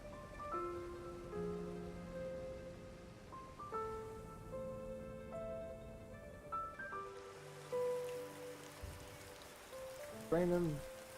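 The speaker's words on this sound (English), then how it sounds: "Raining quite a bit, leaving puddles everywhere." Steady rain falls in The Straw Hat Knight, a continuous hiss of drops on surfaces beneath sustained musical tones, with a brief brighter chime near the end.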